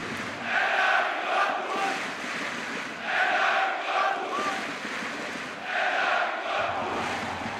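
Roaring football stadium crowd of more than 12,000 spectators at an FC Energie Cottbus match, swelling in loud waves of chanting and cheering that rise and fall every few seconds.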